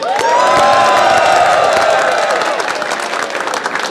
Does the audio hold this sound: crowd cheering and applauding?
yes